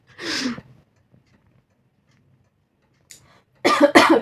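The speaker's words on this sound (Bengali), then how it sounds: "একটা খুশখুশে একটা কাশি হচ্ছে, বিচ্ছিরি" A single sharp cough, then silence, followed by a couple of quick rough coughs or throat-clearing bursts close by.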